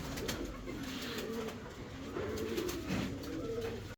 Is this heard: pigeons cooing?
yes